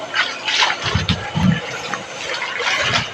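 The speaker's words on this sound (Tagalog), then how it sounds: "Dito kami kumukuha guys ng tubig na inumin." Steady rush of water flowing from a drinking-water source near a cave, a continuous wash of noise with a few low thumps and gurgles underneath, fairly close and without speech.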